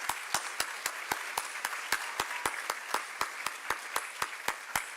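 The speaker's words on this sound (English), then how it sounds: "A round of applause for all of them" Sparse audience applause at a Bharatanatyam arangetram, a handful of listeners clapping in a fairly regular rhythm over a soft wash of room noise, no voices.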